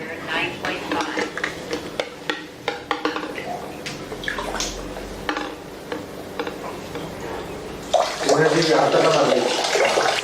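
A Kangen water machine dispenses water as a steady rushing pour that swells near the end, after a stretch of clinks and handling sounds with a voice speaking over them.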